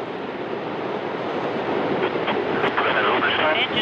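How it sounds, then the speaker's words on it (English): A broad, roaring rumble of the Soyuz TMA-17M rocket engines at liftoff builds steadily, with a voice speaking over it. "Liftoff of the Soyuz TMA-17M on its way to catch up with the International Space Station"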